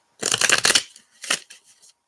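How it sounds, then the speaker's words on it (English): Close, crisp riffle of tarot cards being shuffled, a dense fluttering burst followed by a few softer ruffles and taps. "I'm going to give these a shuffle."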